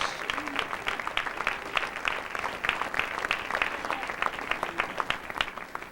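A church congregation applauds during a Spanish-language sermon, a steady wash of many hands clapping at close range that holds evenly throughout with no clear break.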